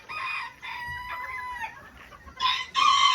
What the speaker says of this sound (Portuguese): Então aqui nós temos o nosso galinho Apolo.